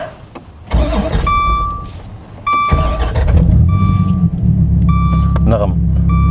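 Dodge Viper GTS starting up, with chimes and a starter whir followed by the engine catching into a deep, loud, rumbling idle that holds steady as warning chimes repeat and a person talks briefly.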